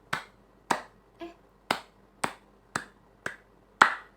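Pupils in a combined grade 4 and 5 class clap together in a steady counted rhythm, eight crisp unison claps roughly half a second apart, one softer than the rest, close and without talk.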